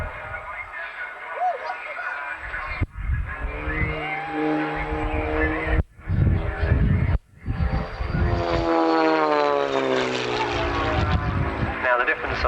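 An Extra 300L aerobatic propeller plane performs at the Ulster Airshow in Newtownards, its engine droning and rising in pitch as it passes, under steady commentary from a public-address announcer.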